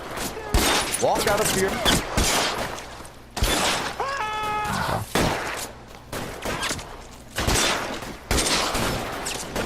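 Gunfire in the video game L.A. Noire comes as scattered loud shots and volleys with shattering impacts in between, while voices speak over the shootout.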